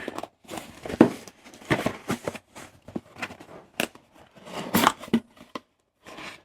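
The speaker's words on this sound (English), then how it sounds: "Didn't bring my pocket knife down here, so I got to use scissors." Scissors snipping and tearing open the packaging of a perfume kit, a series of irregular close crisp cuts and rustles with pauses between them, no talking.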